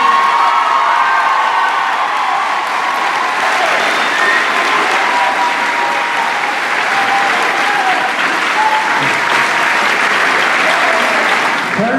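Sustained loud clapping from an 8th grade graduation crowd, with scattered cheers, whoops and kids' shouts rising over the steady applause for about twelve seconds.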